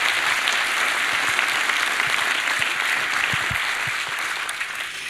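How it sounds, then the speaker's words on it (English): Conference audience applauding, a dense steady wash of clapping that carries on for several seconds and tapers slightly toward the end, with no voices over it. "So please give them a round of applause"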